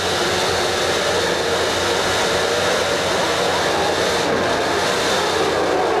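Mid-1990s Formula One race cars revving as high as 16,500 RPM on the grid at the start of the Brazilian Grand Prix, a loud, steady, dense high-pitched engine roar that fills the whole stretch.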